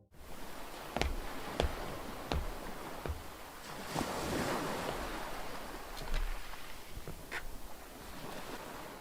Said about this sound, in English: there are footsteps and the sound of waves